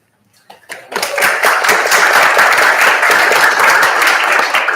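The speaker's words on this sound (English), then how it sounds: "Round of applause" An audience breaks into applause at an event, starting with a few scattered claps and quickly swelling into a loud, sustained round of clapping.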